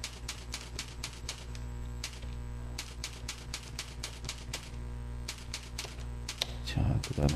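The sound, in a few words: typing on a computer keyboard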